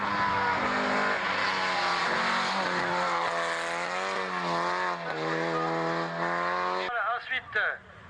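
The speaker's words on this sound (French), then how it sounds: "Et là maintenant la 205 Rallye Blanche." A white Peugeot 205 Rallye racing in a rally, its engine droning loud and steady close by with rising and falling revs, then cutting away sharply near the end amid a brief burst of noise.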